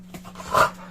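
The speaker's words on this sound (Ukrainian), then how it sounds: "Тут граються собаки." Dogs playing inside a house, a short close burst of panting and a small whimpering yelp over a faint steady hum.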